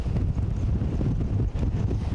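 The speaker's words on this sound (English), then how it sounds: "to say that it's windy out here is a true understatement" Strong storm wind in Jefferson buffets the microphone in a steady, loud low roar that gusts and dips briefly, with no voices.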